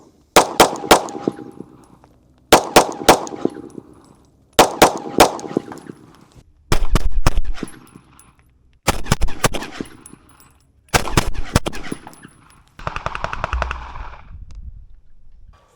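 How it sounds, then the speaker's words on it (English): A pistol fired at a target in sets of three quick shots, each triplet a sharp, loud burst with ringing decay, repeated six or seven times with pauses of about two seconds between groups. "When we shoot that triplet, we really want to focus on making sure that our rounds are staying in a pretty well-defined group."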